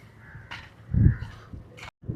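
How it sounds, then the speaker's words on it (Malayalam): Crows caw near prawn farms in Chellanam, Ernakulam: a few harsh, hoarse calls up close in quick succession over faint outdoor background noise. "പക്ഷികളാണ് കൂടുതൽ കേട്ടോ."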